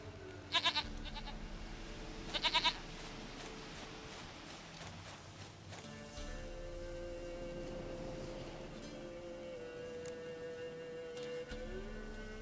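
A goat bleats twice in short wavering calls in The Witcher 3 video game, heard over a steady ambient background of game music and environmental hum.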